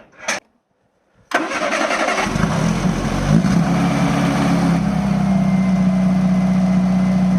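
A classic car pulled from a lock-up cranks briefly, pauses in silence, then catches and fires up, settling into a loud, steady idle close by with no talking.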